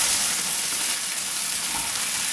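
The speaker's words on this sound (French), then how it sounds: "Vous faites bien frire. Vous n'hésitez pas à les écraser sur la poêle." Prawns sizzle in a frying pan, a steady, dense crackle of frying heard close up and without pause.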